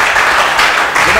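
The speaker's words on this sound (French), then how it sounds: "Merci d'applaudir Jonathan" Applause from a studio audience on a televised game show, a loud, thick burst of clapping filling about a second, with voices mixed in beneath it.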